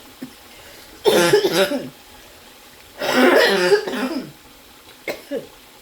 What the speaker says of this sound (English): I'm gonna be coughing on the food.